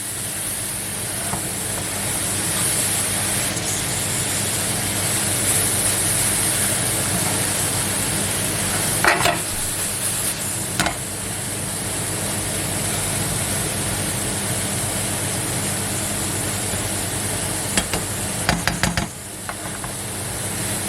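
Apples caramelizing in a frying pan as their juice evaporates, giving a steady broad sizzle and hiss with a few brief scraping stirs of the pan midway and near the end.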